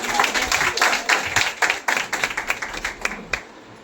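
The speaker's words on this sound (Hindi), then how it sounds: "मैं चाहूँगी एक बार जोरदार तालियां।" An audience at a wellness business income-testimony meeting in Nagpur applauds loudly and steadily, with dense overlapping claps sustained throughout and a few sharper individual claps standing out near the end.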